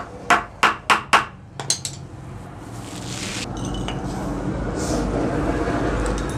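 Sharp tapping strikes punching a hole in the thin, light pipe of a cycle air pump, four quick even hits followed by a few softer ones, then a steady low rumble.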